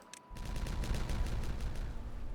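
Dynamite detonations in Timberborn with the Folktails beavers set off one after another, a dense continuous rumble of blasts that stays loud and fairly near for the whole stretch, with no talking.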